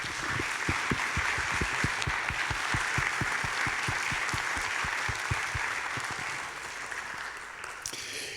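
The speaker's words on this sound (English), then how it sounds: "So let's give her a round of applause." Congregation applause at a church service, sustained clapping from a gathered crowd with a strong steady rhythmic beat in the foreground, fading slightly toward the end.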